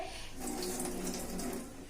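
Water runs from the front tap of a large clay water pot in a village house, a soft, steady trickle and splash lasting a couple of seconds, fairly quiet and with no talking.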